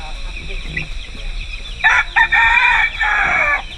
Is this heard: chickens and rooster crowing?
yes